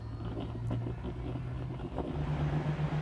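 A Ferrari Challenge race car at Homestead accelerates on full throttle toward turn 1. A loud, steady engine drone climbs in pitch, shifts near the two-second mark, and resumes rising, heard close and continuous without talk.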